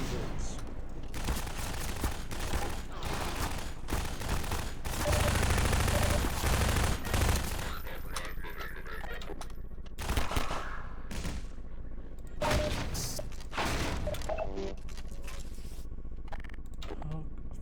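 Rapid automatic SMG fire in the video game Half-Life 2: Lost Coast, repeated bursts across the clip with a heavier sustained volley in the middle, mixed with game effects and occasional voice.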